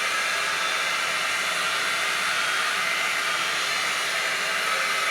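A Trevor Sorbie High Flow Airstyler blows a constant, loud, even airflow hiss close by while hair is brushed through, with no pauses or talk.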